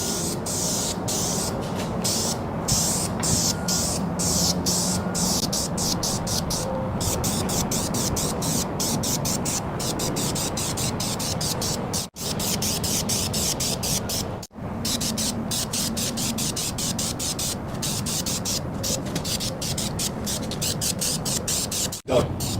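Black spray paint hisses steadily onto engine parts from a 1948 Chevy, in long close bursts with a few short pauses.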